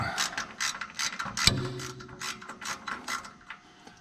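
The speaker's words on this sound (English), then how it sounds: "So next you want to take your crank sensor out." Ratcheting clicks come from a hand tool loosening the crank sensor on a Polaris RZR engine during a timing chain tensioner repair, with quick close bursts and one sharper knock midway.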